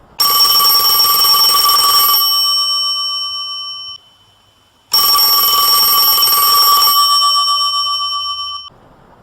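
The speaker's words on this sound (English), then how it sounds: "Casey reached for the ringing landline on the end table." A landline telephone rings loudly in two long electronic bursts separated by a short pause, a bright steady tone with no voices.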